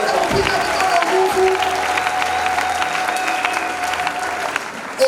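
A church congregation applauds and cheers loudly at a convention, a sustained wash of clapping with a few voices rising over it for several seconds.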